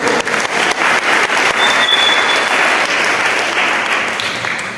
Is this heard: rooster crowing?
no